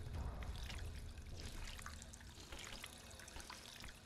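Water being drunk in the video game Fallout 4, a steady trickling, pouring liquid sound lasting a few seconds at moderate, even loudness with no speech.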